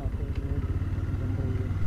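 Motorcycle riding along a road under construction in the Dalai Hills area of Mussoorie, its engine a steady low pulsing rumble heard close by throughout, with some clatter and a voice speaking over it.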